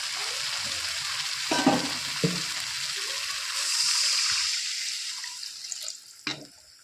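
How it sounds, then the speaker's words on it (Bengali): Water hitting a hot pan of fried spice masala for a Bengali fish curry, a burst of sizzling and hissing that swells and settles, with occasional clinks and stirring scrapes, no talking. "এবার আমি দিয়ে দেবো পরিমাণ মতো জল।"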